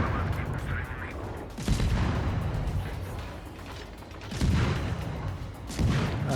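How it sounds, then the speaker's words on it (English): Naval guns firing high-explosive shells in World of Warships, heavy booming salvos arriving every couple of seconds with a mechanical clatter, loud and close over a steady engine and sea rumble. "He's firing the high explosive, which didn't hurt."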